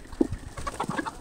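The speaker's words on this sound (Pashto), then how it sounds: "ماشاءالله یې څومره ډېر چرګان دي" Chickens at a rural farmyard give a few short, soft clucks in quick succession, close by over quiet background noise.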